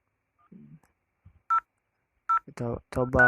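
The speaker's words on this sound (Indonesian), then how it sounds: "Kita menelpon ke 1003." Two short, clean telephone keypad tones sound a moment apart while a VoIP call is placed between two routers, then a voice begins speaking.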